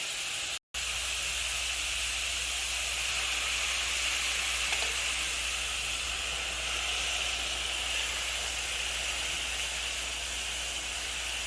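Sauce poured into a hot pan of sizzling meat, a steady loud hiss and crackle of frying that continues unbroken throughout.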